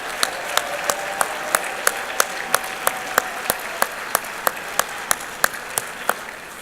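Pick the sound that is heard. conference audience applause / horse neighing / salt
conference audience applause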